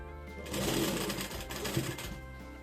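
Close, loud running of a sewing machine stitching a three-piece princess-cut blouse, with a steady continuous whir that rises and holds through the short stretch.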